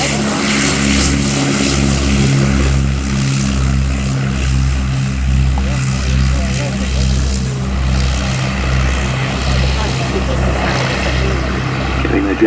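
A vintage Blackburn Cirrus-engined propeller aircraft flies overhead at an air display, its engine droning loud and steady with a pulsing beat throughout.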